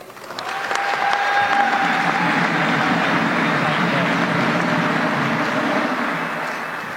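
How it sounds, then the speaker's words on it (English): A crowd at a public event applauds as a speaker is brought up, the clapping swelling quickly to a full, loud ovation, holding steady, then easing slightly toward the end. "please give me a round of applause here"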